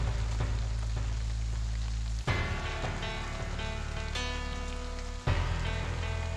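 Heavy evening rain hisses steadily throughout, partly masked by a sustained dramatic music score with two abrupt cuts.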